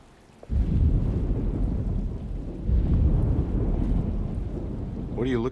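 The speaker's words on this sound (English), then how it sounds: "Just keeping an eye out for the storm." A thunderstorm in the video game Alone in the Dark: heavy rain and rolling thunder begin abruptly and roar steadily, swelling louder midway, with a brief tonal blip near the end.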